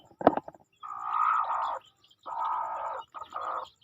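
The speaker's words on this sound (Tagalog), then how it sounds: "buti na lang nandito yung inahin nating manok" A hen gives several drawn-out, nasal clucks close by, spaced with short pauses, after a quick sharp tap at the start.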